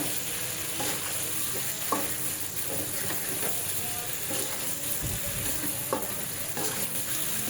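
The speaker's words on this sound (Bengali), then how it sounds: "নেড়ে চেড়ে একসাথে করে নিয়ে তেলে ভেজে নিচ্ছি" Hilsa fish and green banana fry in oil while being stirred, a close steady sizzle broken by repeated scraping and clattering spoon strokes against the pan.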